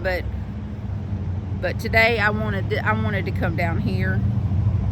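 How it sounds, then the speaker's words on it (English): Steady road traffic from a busy main parkway close by forms a constant low rumble throughout, with a person talking over it outdoors near a pond in the city. "you're gonna hear a lot of traffic because there's a road like right there, the main parkway road"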